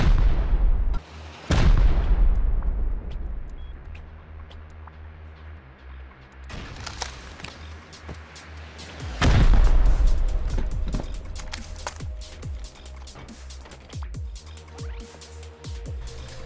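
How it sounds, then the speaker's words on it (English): Rocket explosions during a raid in the game Rust, several heavy booming blasts with long rumbling tails, spaced apart and interleaved with sharper shots and scattered crackling impacts. "I think they're only wasting the extra rockets they have."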